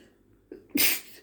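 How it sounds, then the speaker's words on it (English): A single sharp sneeze, preceded by a quick intake of breath, close and loud in an otherwise quiet space. "Sneeze on a Monday, sneeze for danger."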